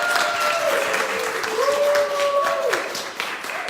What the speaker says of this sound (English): Can y'all give her a round of applause for that?